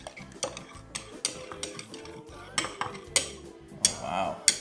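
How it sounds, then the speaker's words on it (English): A spoon stirs condensed milk into a Samoan pineapple drink in a bowl, giving soft, irregular clinks and scrapes against the bowl, close and fairly quiet, with no talking. "Once you put in your condensed milk, you're going to give that a stir."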